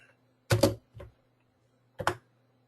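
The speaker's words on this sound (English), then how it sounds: "I'm clicking on that and then hitting the tab key to get the wall polyline" Three sharp clicks from a computer mouse and keyboard keys while drafting walls in a home design program, spaced apart in a quiet room, the first pair close together and the last a second later.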